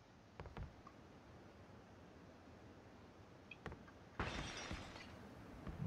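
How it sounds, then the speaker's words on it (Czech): Glass shatters in a video game, a bright sudden burst of breaking fragments near the end after a few faint ticks and clicks, with a quiet background throughout. "Další sklo rozbitý"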